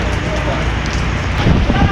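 Heavy rain pours down loudly and steadily outdoors near a harbour with a Coast Guard ship, a dense continuous roar of drops with a voice briefly heard under it.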